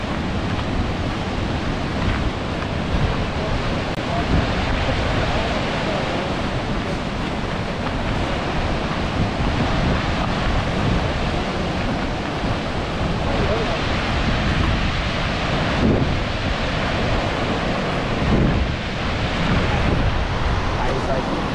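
Loud, continuous rushing of an Icelandic waterfall, a dense roar that stays steady throughout, with voices faintly audible beneath it.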